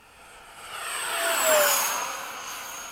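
A Freewing 80mm MiG-21 RC jet with a custom afterburner whooshes past after sunset at an airfield, its turbine hiss swelling to a peak mid-pass with a falling whine, then fading as it moves away.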